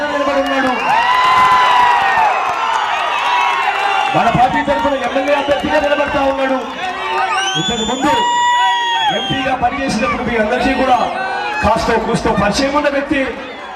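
Large crowd cheering and shouting at a politician's election road show, a loud dense roar with whoops and raised voices, someone speaking over it at times.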